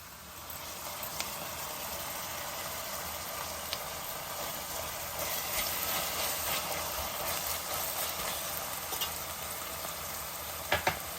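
Onions softening in a hot pan with ginger-garlic paste added for a Hyderabadi kheema dish, giving a steady, moderately loud sizzle and crackle throughout with a few sharper pops near the end and no talking.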